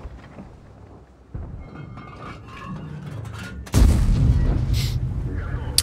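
Tank cannon fire from an Object 777 in World of Tanks, a heavy boom hitting suddenly near the end after quieter rumbling game sounds, with a softer thump earlier.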